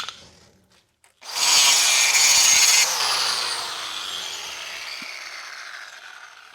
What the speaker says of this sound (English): There's another bolt I need to grind off.